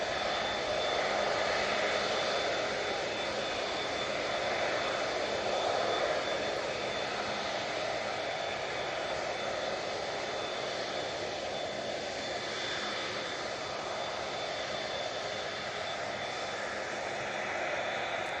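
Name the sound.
Emirates airliner engines at the airport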